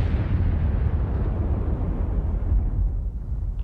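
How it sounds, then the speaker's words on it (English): A deep, roaring explosion rumbles loudly and gradually fades, a heavy boom with a long, sustained low-end tail. "this fireball exploded."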